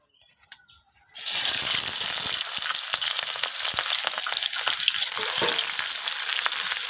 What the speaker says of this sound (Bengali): এখন এখানে তেলটা গরম হয়ে গেছে দিয়ে দিব কিছুটা কাঁচামরিচ আর কিছুটা পেঁয়াজ কুচি